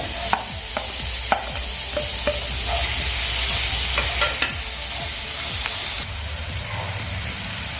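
Tomatoes tipped into a pan of frying onions for methi bhaji, a loud continuous sizzle with scattered sharp crackles and the scrape of stirring, the hiss dropping a little near the end.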